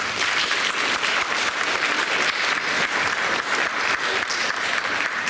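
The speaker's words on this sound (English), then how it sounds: "Feel free to give each friend a big round of applause" A room full of people claps steadily for student peer buddies at a school board meeting, dense applause holding at an even level throughout without pause.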